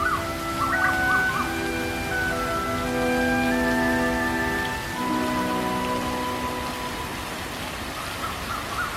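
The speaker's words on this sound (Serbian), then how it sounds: "ova improvizovana tropska kiša dobro mi je došla kao osveženje" An artificial tropical rain shower in a Bangkok park gives a steady, continuous hiss of falling water spattering on surfaces. Faint tonal sounds drift in the background.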